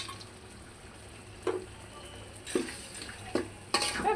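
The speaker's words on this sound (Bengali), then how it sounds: "ভালো করে মিশিয়ে নিব।" Soybeans stirred into a spice mixture in a pot for vegetarian patal kaliya: quiet low background with a few scraping stirs and clinks of a spoon against the pot, spaced irregularly.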